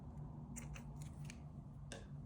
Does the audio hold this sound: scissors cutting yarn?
yes